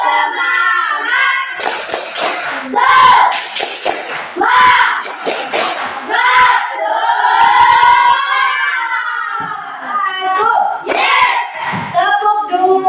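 A primary school class stands and does rhythmic spirit clapping, bursts of group claps mixed with children chanting and shouting in unison, loud and close in a classroom.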